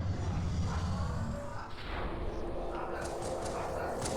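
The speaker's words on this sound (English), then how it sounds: "dogs are barking at something" Dogs barking in the background, heard under loud Halo 2 gameplay sound on the Sacred Icon level, with the bark mixed into dense game noise rather than standing out clearly.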